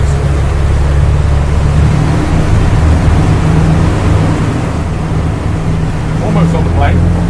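Engines of a Leopard 40 catamaran pushed to full revs on a sea trial, a loud, steady drone with rushing water and wind noise throughout.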